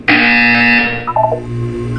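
A buzzer from the video game Portal 2 sounds loudly for about a second, then gives way to quieter electronic tones and a low ambient hum.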